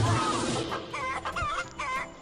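A chicken clucking in a short, busy burst of rapid fowl calls, close and fairly loud, with some warbling notes in the middle.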